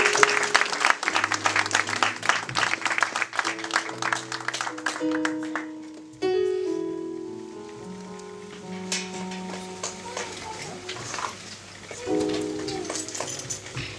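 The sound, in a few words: applause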